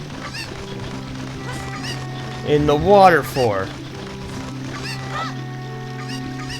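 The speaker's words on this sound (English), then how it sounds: "You don't need this chicken anymore." A cucco chicken in The Legend of Zelda: Ocarina of Time gives one loud, squawking cluck in the middle, heard over game music while someone speaks.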